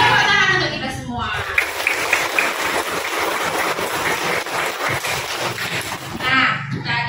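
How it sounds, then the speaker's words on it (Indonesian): A fourth-grade class applauding together in a school classroom, a dense burst of clapping that swells and fades over several seconds, close and loud, with a voice speaking at the start and end. "Tepuk tangan untuk kita semua."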